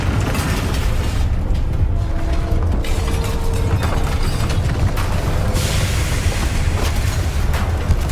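Confringo fire spell blasts from Hogwarts Legacy, loud dense bursts and rumbling booms packed continuously with crackling debris, no speech.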